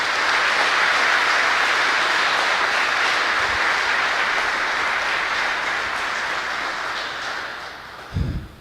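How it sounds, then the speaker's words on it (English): Loud, sustained applause from a crowd at an Armed Forces Day gathering, honoring veterans. Dense clapping holds steady for several seconds, then tapers off toward the end. "please give them another round of applause for all they do."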